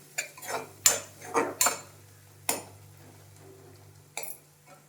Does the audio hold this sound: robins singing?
no